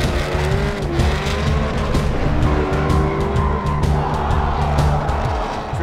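A drift car slides with loud, sustained engine roar and squealing tires, the revs rising and falling continuously through the whole stretch, close and intense in a motorsport drifting setting.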